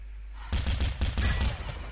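Rapid bursts of UMP submachine gun fire in the Urban Terror shooter, a loud rattling string of shots that starts abruptly after a quiet moment and keeps going with brief gaps.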